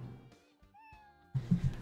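A cat in the game Bad Rats meows once in a thin rising tone, then soft muffled thumps and rustling follow close by.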